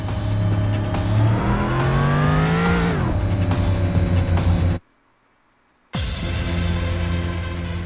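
Racing car engine in the video game Import Tuner Challenge, loud and continuous with revs climbing through gear shifts, a sudden silent gap of about a second, then the engine droning again.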